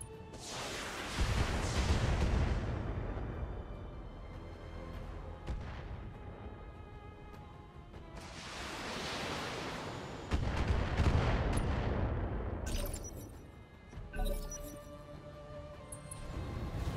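Mech weapons fire in the BattleTech game, with heavy booming artillery-like blasts and crackling gunfire that come in several loud, sustained bursts, each swelling and then fading across the clip.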